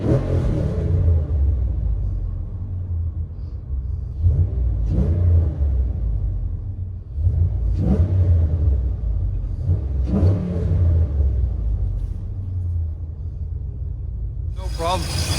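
A Scat Pack 6.4-liter engine swapped into a RAM 1500 revs hard from inside the cab, loud rumbling blips rising and falling over a steady deep idle, with people talking over it.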